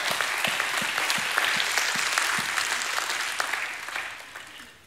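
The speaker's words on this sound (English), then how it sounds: "give God a hand clap" A church congregation clapping hands together, a broad wash of many hands applauding steadily at a distance before tapering off toward the end.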